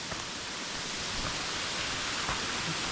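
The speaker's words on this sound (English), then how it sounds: "I'm guessing that's the waterfall right there" Waterfall on the Cape Fear nature trail, heard as a steady broadband rush of falling water that stays even and unbroken throughout.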